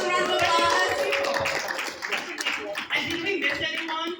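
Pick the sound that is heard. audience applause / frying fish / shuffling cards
audience applause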